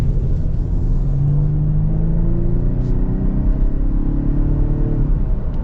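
A 2023 Ford Explorer Timberline accelerating, its engine a steady low rumble with rising tones heard from inside the cabin, loud and continuous under road noise, with no talking.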